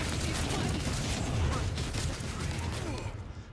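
A dense, continuous barrage of rapid gunfire in the video game Rogue Trader, loud and noisy throughout, tapering off slightly at the end.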